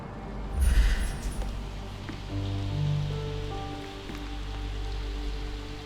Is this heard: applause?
no